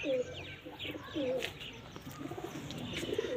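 Pet pigeons coo in soft, repeated rolling calls, several in succession at moderate distance, fairly quiet against a faint background.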